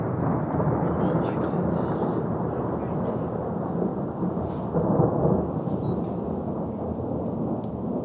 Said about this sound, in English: we're catching the thunder of a really big flash